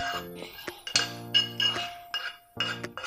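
Chopped onions tip into a steel mixer-grinder jar for Heralikayi gojju, a few bright, close metallic clinks with short gaps, no talk.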